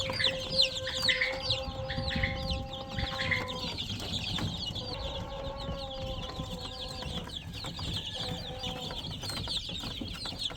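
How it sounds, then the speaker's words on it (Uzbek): About 25-day-old Adler silver chicks peep continuously in a busy chorus of high, overlapping chirps, close and steady throughout. "Jo'jalar o'ta sog'lom, o'ta tetik mana."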